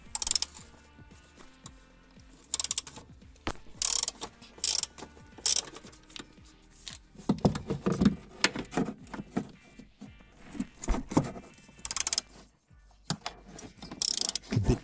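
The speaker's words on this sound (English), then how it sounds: "first we will loosen the 2 screws at the top that hold the strut mount" Socket ratchet loosening the strut mount screws on a car's rear shock absorber, with intermittent clicking bursts of varying length and clear pauses in between, close by and with no talk.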